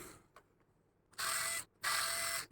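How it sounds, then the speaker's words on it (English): Power screwdriver or drill removing the last two screws while taking apart a Colonel Wasp 76 mechanical keyboard: two sustained whirring bursts of about half a second each, close and fairly loud, after a few faint clicks. "let me just remove the remaining 2 screws."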